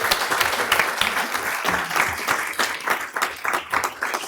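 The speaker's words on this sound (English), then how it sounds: "Let's give everyone an enthusiastic round of applause" People at a city council meeting applaud in a steady burst of many hands clapping, moderately loud and alone, with the clapping rising and falling in waves.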